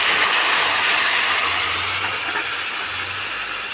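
A paste of green and dried chillies, ginger, cumin and coriander hits a hot pan for a fish and cauliflower curry, giving a loud, steady, close sizzle that fades slightly over a few seconds.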